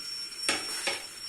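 Onions dropped into hot cooking oil in a pan give a quiet sizzle, with two short scraping stirs about half a second apart. No voices.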